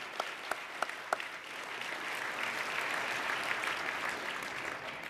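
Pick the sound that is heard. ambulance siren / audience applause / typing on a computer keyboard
audience applause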